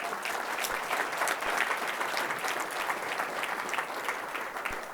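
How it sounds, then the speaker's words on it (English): Audience applause at a panel event on Southern California water infrastructure, continuous even clapping from a crowd filling the whole stretch. "Let's give him a round of applause."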